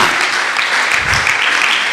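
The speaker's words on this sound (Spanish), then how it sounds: "Dele palmas al Señor" A church congregation claps together in a steady, loud, bright patter, filling the room evenly for the whole moment.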